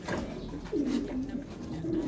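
A racing pigeon being held in the hand gives soft, low throaty coos, several short rolling calls close by against faint handling noise.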